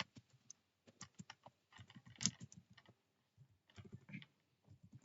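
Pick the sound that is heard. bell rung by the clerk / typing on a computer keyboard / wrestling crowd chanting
typing on a computer keyboard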